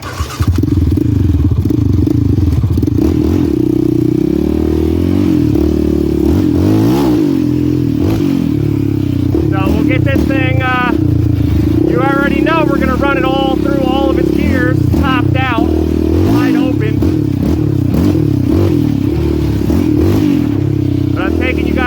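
A Yamaha Raptor 700R ATV engine, valves out of adjustment, idles and revs unevenly with a rattling, ticking valve clatter, loud and close, with bursts of higher whine partway through.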